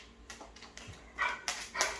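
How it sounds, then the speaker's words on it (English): A hound dog barks a few times somewhere in the distance, faint, short yelps spread over a couple of seconds above quiet background noise. "Oh, I hear hound dog."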